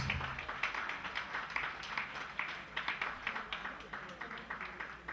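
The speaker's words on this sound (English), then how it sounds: "Can you please give me a hand of applause?" Guests clap for an arriving man at a 70th birthday celebration held by a London Ghanaian social club, a scattered room of hand claps forming steady moderate applause, fairly distant, with a voice faintly under it.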